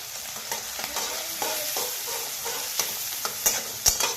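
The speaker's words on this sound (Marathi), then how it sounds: "याच्यामध्ये मोहरी टाकायची आणि जिरी सुद्धा आता हळद" Mustard seeds, cumin and turmeric fry in hot oil in a pan for poha, a steady loud sizzle with scattered small pops and crackles and a few sharper spattering bursts near the end.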